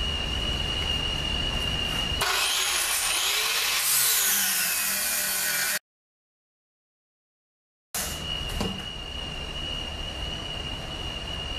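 An angle grinder grinds down weld on a concrete mixer truck cleanout bucket, a loud, bright screech running steadily for several seconds. It then cuts out completely, and a quieter steady hum resumes afterward.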